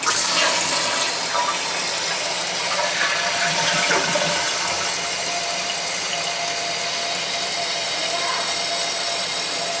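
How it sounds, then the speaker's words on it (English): A second-floor toilet with a leak at its seam flushes loudly nearby, a gushing rush that settles into a steady refilling hiss and trickle for several seconds, with no talking. "I'm gonna flush it a couple of times."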